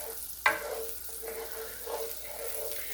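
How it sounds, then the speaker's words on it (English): Green onion bottoms hit melted butter in a pan, a sharp hiss at first, then a gentle, steady sizzle with soft crackles. "I'm going to saute that."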